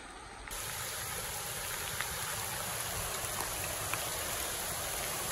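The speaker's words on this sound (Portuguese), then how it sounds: "Olha só que coisa mais linda, uma cachoeirinha ali." A small waterfall flows steadily in the rain near a muddy spot, a constant broadband rush of falling water that stays even and fairly loud throughout, with no voices.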